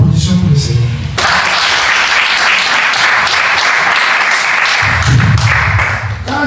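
A church congregation at a testimony service breaks into loud, sustained applause, a dense roar of clapping hands that swells after a brief spoken line and holds steady before a voice returns at the end.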